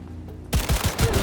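Rapid gunfire in Cyberpunk 2077 bursts in after a quiet moment, a quick run of about six loud, close shots in a fast rhythm.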